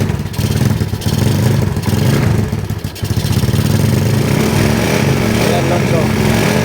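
A motorcycle engine with a weak-charging rectifier regulator runs steadily with a clattering, mid-pitched idle that dips briefly before settling back to a constant drone.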